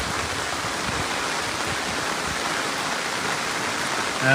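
Steady rain pouring in rural Ubon Ratchathani near a dug canal and check weir, a dense even hiss filling the whole moment without any voices.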